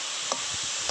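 Bottle gourd leaves stirred and dry-frying in a pan, with a steady sizzle and two brief scraping stirs, close and fairly loud.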